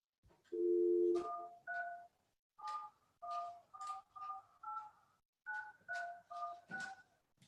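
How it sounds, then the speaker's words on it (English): An IP phone on an OpenVox UC series IP PBX dials a mobile number with a run of DTMF keypad tones: a short dial tone, then about a dozen evenly spaced two-note beeps, clear and alone with no talking. "we will use this phone to dial a target mobile phone"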